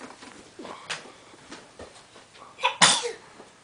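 A single sharp sneeze bursts out near the end, preceded by soft breathy sounds and a quiet household background.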